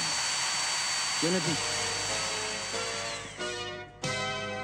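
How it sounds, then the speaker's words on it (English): A power drill whines steadily throughout, bright and close, with its pitch dropping and shifting near the end, as a voice briefly speaks over it. "I am the hitman with the power drill."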